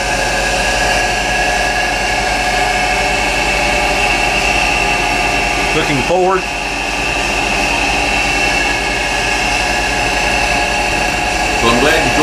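Port engine of a 1987 36-foot Heritage East trawler runs steadily in the close engine room, a loud constant diesel drone with a steady hum, while someone speaks briefly over it.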